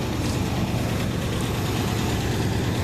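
A Yamaha V-Star motorcycle engine idles after a cold start, a steady low rumble that holds evenly at the same loudness from start to finish, close by.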